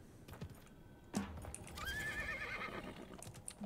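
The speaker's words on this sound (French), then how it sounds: "On risque de faire du bruit à cheval." A horse in the video game Realm Royale whinnies sharply, followed by a rising neigh and soft hoof clip-clops over faint background ambience.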